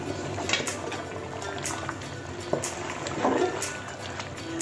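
A pot of mushroom biryani being opened and stirred: soft scraping and light clinks of a spoon against the pot, close, over a steady hiss.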